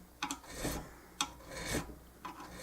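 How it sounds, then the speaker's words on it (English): A three-corner file rasps across a banjo's new frets, rounding their edges, in three separate close strokes each with a scraping push and a softer return, quiet and unhurried with brief pauses between. "What we're doing, we're filing"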